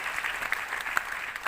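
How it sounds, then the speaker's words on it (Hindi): An audience at a company achievements gathering bursts into hearty applause, a close, busy patter of many hands with a few sharper claps popping out, steady from start to finish. "सभी के लिए जोरदार ताली हो जाए"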